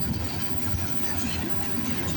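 A CN train rolls past Sarnia VIA station in Ontario on a Friday evening, a steady, dense rumble and roar with no distinct clanks, heard from trackside.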